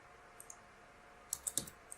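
A few faint, quiet clicks of keys on a computer keyboard while working in Rhino3D, with a short burst of keystrokes near the end.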